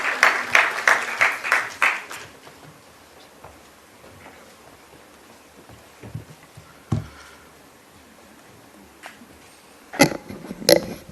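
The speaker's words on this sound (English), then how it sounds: "Let's have a huge round of applause for sir" An audience at an IPO listing ceremony for TVS Infrastructure Trust claps, a burst of applause that fades within a couple of seconds, followed by scattered faint noises and another brief clap-like flurry near the end.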